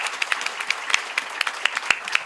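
Scattered applause from a conference audience at a technology congress, individual claps ringing out sparsely and unevenly from a modest crowd, fairly close and clear with no talking.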